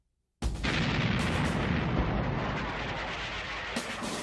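Battleship naval guns shelling Iwo Jima: after a moment of silence a heavy blast erupts, followed by sustained rumbling bombardment with repeated booms and a fresh sharp report near the end.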